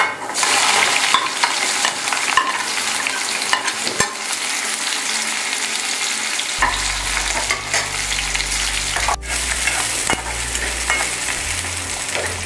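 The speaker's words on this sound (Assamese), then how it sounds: "পিঁয়াজখিনি আমি ৰঙচুৱাকৈ প্ৰথমতে ভাজি ল'ম" Continuous loud sizzling of onions frying in oil, with a spatula scraping and stirring the pan at intervals; no voices.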